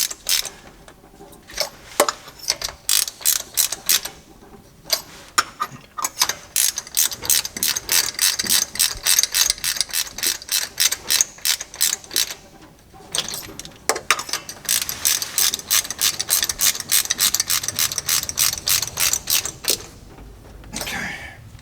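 A ratchet wrench snugs down spark plugs on a carbureted engine, with bursts of rapid close clicking separated by short pauses.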